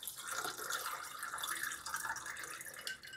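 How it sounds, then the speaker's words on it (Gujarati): Water pours steadily into a glass of raw mango sharbat holding ice and mango syrup, a close, continuous splashing trickle that lasts throughout with no talking. "પાણી એડ કરીશું."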